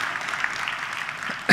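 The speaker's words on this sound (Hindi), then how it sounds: "ताली बजाओ यार इनके लिए सबसे" Audience applause at a live talk event, a steady dense patter of clapping held at an even level throughout, ending on a brief louder burst.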